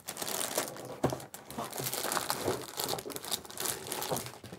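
Plastic bag crinkling steadily and close while a Grandstream GCC6020 device is unboxed, a continuous soft rustle with small bursts and no talk.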